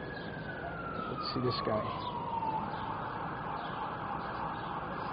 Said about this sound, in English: They got the sirens going on in the background.